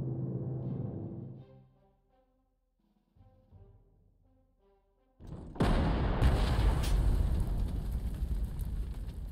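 Warship shelling in the Panzer Corps 2 wartime strategy game, set in Sicily: tonal game sounds fade to near silence, then a loud sustained roar of heavy fire and explosion noise erupts and holds.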